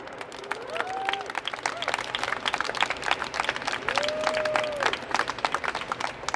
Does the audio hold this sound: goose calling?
no